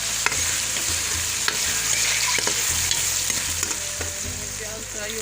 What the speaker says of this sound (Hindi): प्याज फ्राई हो गया है